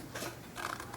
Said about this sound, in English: I will take my scissors and I'm going to cut